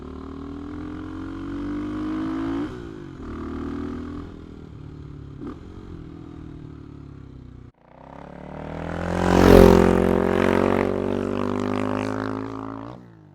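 A CCM Maverick motorcycle, the Bolton-built boutique bike, runs steadily with a droning engine tone, then its revs climb into a louder, rising surge as it accelerates away, with no talking.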